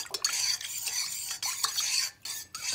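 Spoon stirring cheese yeast into milk in a pot for a Turkish cheese dessert: soft scraping and clinking swirls at close range, quiet and continuous with a few brief pauses.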